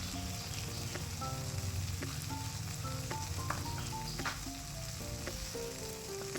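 Chicken curry spices with turmeric frying in a pan, a dense, continuous sizzle with scattered crackles and pops, close and steady throughout.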